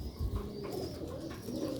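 Soft, low cooing of Sialkoti silver pigeons repeats steadily over a quiet background, close by and fairly gentle.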